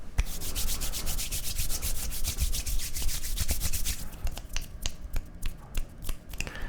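Fingers rub and scratch directly across a microphone grille in quick, close, dry bursts of friction, dense at first and then breaking into sharper separate scrapes; no talking.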